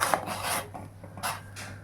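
Pal ada is stirred in a pot of boiling water, making repeated scraping, rasping strokes against the pot in a steady back-and-forth rhythm, close and fairly loud with no talking.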